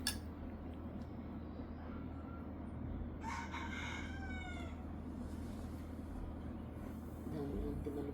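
A fighting rooster crows once in the distance over a steady background hum, with a faint second call near the end.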